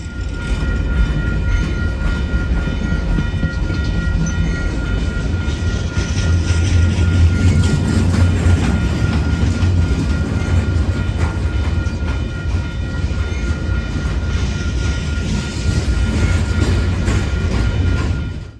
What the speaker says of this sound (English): After the petroleum cars pass, the train starts to look more and more like a manifest, with mostly boxed cars, but some grain and smaller slurry cars sprinkled in.